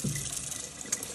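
Tap water runs steadily into a kitchen sink while potatoes are scrubbed clean, a close, even gush with a brief splash near the end and no talk.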